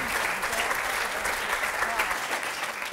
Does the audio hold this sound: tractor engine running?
no